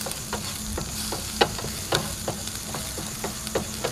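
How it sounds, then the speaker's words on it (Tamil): Shallots and cumin fry in a pan for pepper chicken masala: a steady close sizzle with regular sharp scrapes and knocks of a spoon stirring, and no talking. "வெங்காயம், அதாவது சின்ன வெங்காயம் தான் சேர்த்துருக்குறேன், அதையும் போட்டு கொஞ்சம் ஃப்ரை பண்ணி விடுங்க."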